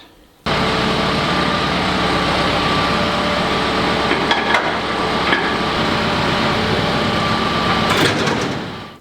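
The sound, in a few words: tractor engine running with topper mower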